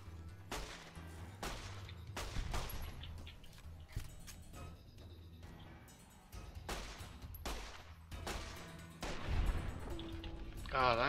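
Repeated gunfire in a video game while shooting swarms of giant ants, bursts of shots recurring steadily at moderate loudness with game effects around them.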